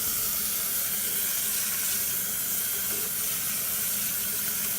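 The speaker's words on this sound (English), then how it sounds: "Then once you have most of the food particles removed, you rinse with the water" Tap water runs steadily into a sink while plastic food storage containers are rinsed, a constant broadband rush holding level for the whole stretch with no voices.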